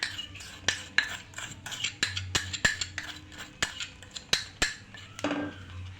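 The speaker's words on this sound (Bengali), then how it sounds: "এবার ভালোভাবে ভাতের মিশ্রণটিকে আমি নেড়ে চেড়ে তার ডো তৈরি করে নেব" Spoon scrapes and clinks repeatedly against a bowl, stirring a rice, flour and milk mixture into a dough, in irregular close taps with no talk.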